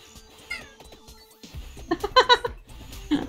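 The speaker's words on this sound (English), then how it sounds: "I don't know if your little meow just now got caught by the microphone or not." A pet cat meows a few short times in a quiet room, close to the microphone, with faint background game sounds and no talking.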